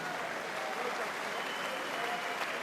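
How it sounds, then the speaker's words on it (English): A boxing crowd applauds both fighters after a twelve-round bout, a steady, dense wash of clapping that fills the arena evenly from start to finish, with voices mixed in. "please join me in offering your applause to both valiant contestants"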